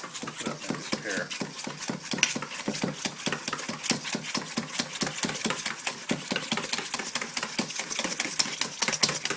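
A whisk beats American-style pancake batter in a bowl, a fast, regular run of close clicking strokes against the bowl that keeps up without pause.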